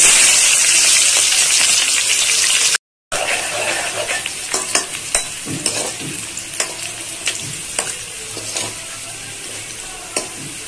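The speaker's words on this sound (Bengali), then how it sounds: "পেঁয়াজ লাল করে ভাজা হয়ে গেছে" Onions fry with a steady sizzle in a pan, broken by frequent scraping stirs and clinks of a spatula, with a short silent gap early on.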